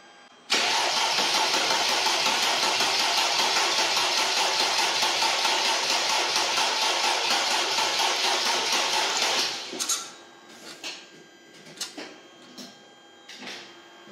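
A Mercedes G320 CDI OM642 diesel engine after repair is cranked for its first start, a loud, even starter whir for about nine seconds that then cuts off, followed by a few scattered clunks.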